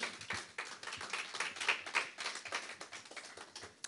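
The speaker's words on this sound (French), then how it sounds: "Acclamons le Seigneur. Let's clap for the Lord." A church congregation claps for the Lord in a quick, steady run of hand claps, soft and somewhat distant, with no talking over it.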